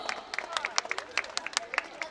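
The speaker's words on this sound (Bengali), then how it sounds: "আমরা একটু জোরে করতালি দিব" Scattered hand clapping from an audience at a school prize-giving ceremony, a sparse irregular patter of claps with light crowd murmur and talking underneath.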